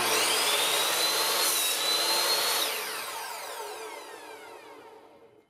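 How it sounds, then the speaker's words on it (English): A miter saw cuts wooden boards to length, its loud motor whining steadily for a few seconds and then spinning down with a falling pitch as the blade slows to a stop. "I'll take them over to my miter saw for cutting to the proper length"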